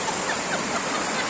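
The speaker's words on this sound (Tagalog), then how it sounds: "Malakas ang alon guys." Strong river current with rough, choppy water rushing past at a river near Colle Val d'Elsa, a steady, close broadband roar that stays constant throughout the short clip, with no voices.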